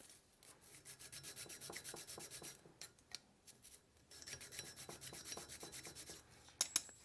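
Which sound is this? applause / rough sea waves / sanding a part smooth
sanding a part smooth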